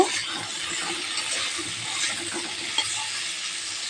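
A taro and egg curry with a little salt and turmeric sizzles steadily in a pan, a continuous close frying hiss with faint scraping and occasional clicks as it is stirred.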